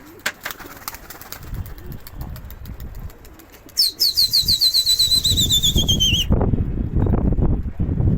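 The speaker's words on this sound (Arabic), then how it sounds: "الحمام ركب العالي" A flock of pigeons taking off and flying overhead, a burst of rapid wing flapping and fluttering that builds and stays loud nearby, with whistling wing tones and a faint coo.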